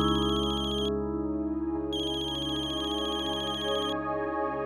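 A telephone ringtone sounds for an outgoing call, a steady electronic tone repeating in two long bursts with a short gap between them, clear and close, with no voices.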